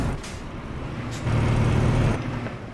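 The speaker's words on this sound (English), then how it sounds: "It's quite a different sounding engine." Truck engine in Euro Truck Simulator 2, a steady low droning rumble with a brief hiss, growing somewhat louder in the middle, with no talking over it.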